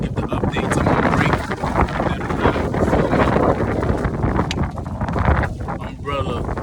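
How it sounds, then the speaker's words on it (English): Strong wind buffeting an outdoor microphone beside the water, a loud continuous roar with gusty surges throughout. "As you can see, it's a little windy on this side."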